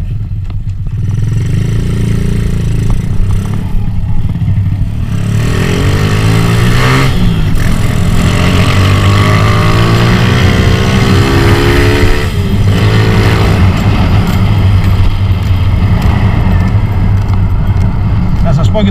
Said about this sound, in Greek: Και το μηχανάκι δουλεύει ωραία.